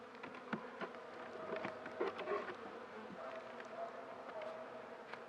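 Honey bees buzz close and steadily around an open beehive during an apiary inspection, with scattered faint clicks and handling noises through the drone.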